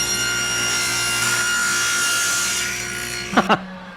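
Hand sawing through a thin wooden strip about half an inch wide in a woodworking shop, a steady close rasping stroke lasting several seconds, ending with two quick sharp knocks as the piece comes free.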